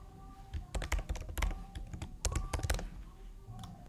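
An email address and password being typed on a computer keyboard: quick, uneven bursts of close key clicks with short pauses between them.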